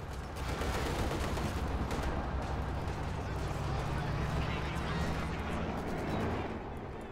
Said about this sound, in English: Big shot bits of machine gun fire and such.